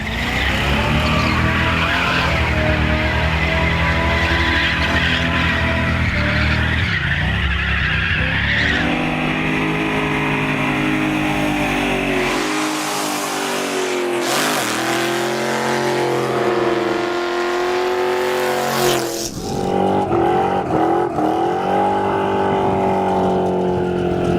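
A 1950 Mercury rat rod does burnouts in Lompoc beside the U.S. Penitentiary sign, its engine revving hard in repeated bursts with tire screeching, heard close and loud with no talking.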